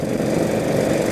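A 1948 Indian Chief motorcycle with a flathead engine runs steadily at close range, giving a dense, continuous mechanical drone with a rough, lawnmower-like chug and no speech.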